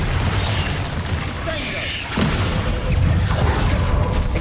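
A Bombarda blasting spell cast in Hogwarts Legacy, a loud booming burst against dense game noise and music, with a second rumbling surge of impact near the end.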